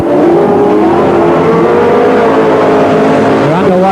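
Speedway race cars roar away from the start at the Newcastle Motordrome, a loud, continuous engine howl climbing in pitch as they accelerate, with a commentator talking over it.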